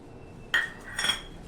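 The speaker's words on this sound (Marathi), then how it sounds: "ह्या भांड्यामध्ये हे सगळे ड्रायफ्रुट्स आपण पहिल्यांदा घालूया" Dry fruits dropped into a steel mixer grinder jar, giving two short clinking, rattling impacts about half a second apart, close and fairly loud against a quiet background.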